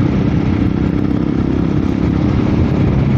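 A KRY 200 2024 dual-sport motorcycle rides on a long trip from Bacolod City to Escalante City, its engine droning steadily and loudly up close, mixed with constant rushing wind and no talk.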